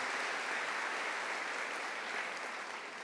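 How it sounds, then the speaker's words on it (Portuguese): A Catholic congregation claps during a church gathering, a continuous, even patter of many hands that sounds soft and somewhat distant throughout. "Dá uma salva de palmas para a igreja católica, gente."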